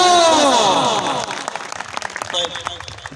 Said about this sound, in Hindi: और तालियां